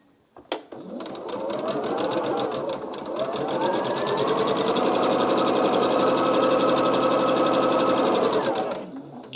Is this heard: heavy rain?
no